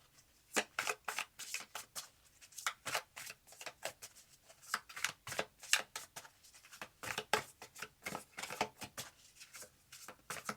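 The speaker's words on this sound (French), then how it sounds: "Je mélange les cartes avec vous" Tarot cards being shuffled by hand in a steady series of crisp riffling bursts, close and fairly quiet, with no talking over them.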